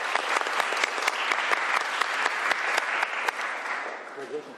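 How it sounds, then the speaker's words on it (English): A room applauds State Representative Joe Fitzgibbon at a governor's bill signing, with brisk clapping from a modest group and a few sharp individual claps, tapering near the end as a voice begins. "Give him a big round of applause for sponsoring this bill."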